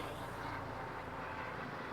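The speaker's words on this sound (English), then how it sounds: "Non-stop planes and helicopters the past couple weeks here." A plane passing over a home garden gives a faint, distant, steady rumble that stays even throughout, with no voices.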